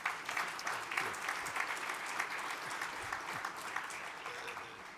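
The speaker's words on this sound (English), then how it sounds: "Please give them a round of applause." An audience applauds a panel, a steady patter of many clapping hands at low, even volume, lasting several seconds with no voices on top.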